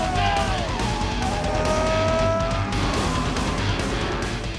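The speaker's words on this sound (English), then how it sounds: "Travis Reese in his wheel-standing yellow Chevy Nova is taking a wild e-ticket ride." A yellow Chevy Nova does a wheel-standing launch at a drag strip, its engine a loud, continuous roar with rising whining tones throughout.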